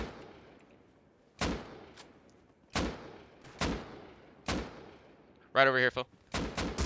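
Gunfire in the survival game Rust during a riverside fight, with six or seven sharp single shots spaced irregularly, each followed by a short decay, and a brief tonal effect between them. A voice speaks briefly between the shots.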